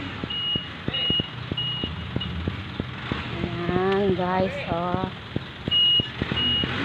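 A delivery truck backs up with steady, evenly spaced reversing beeps over its idling engine, while someone talks over it partway through.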